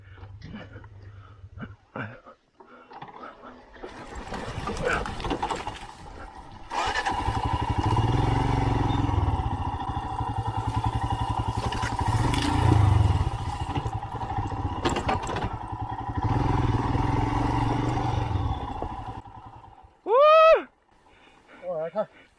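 A Royal Enfield Himalayan motorcycle engine idles and revs off-road over roughly twenty seconds, with clattering and faint voices around it, then a quick rising whine near the end.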